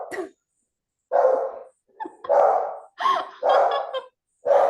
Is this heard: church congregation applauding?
no